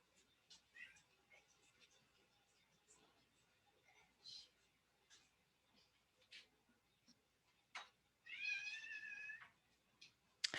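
A cat meows and cries faintly in the background of a quiet indoor room, several short separate calls and one longer drawn-out wail, with soft bits of speech.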